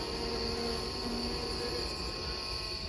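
A hive full of bees being moved at night, giving a steady, dense buzzing hum that fills the whole stretch with no breaks, close by and even in loudness.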